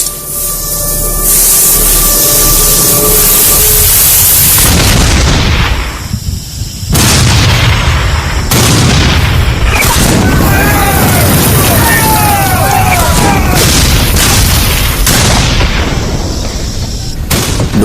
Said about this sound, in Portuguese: Fogo de artilharia e de mosquetes trovejava e explodia por toda parte.